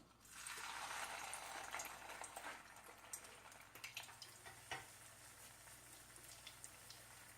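A small piece of cassava fritter batter dropped into hot oil, a soft steady sizzle with scattered faint pops and crackles, fairly quiet and heard alone.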